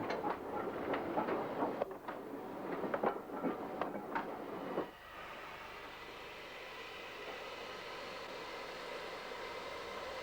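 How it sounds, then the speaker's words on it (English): A goods train hauled by a 4F locomotive departs with about five seconds of rhythmic clattering wagons, then fades into a quieter, steady rolling hiss. "The train is now complete, and the 4F can depart."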